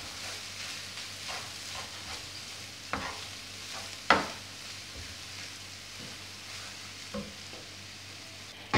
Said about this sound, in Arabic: وغادي نحركو بهذه الطريقه حتى كتجانس لينا داك الحشوه مع الشعريه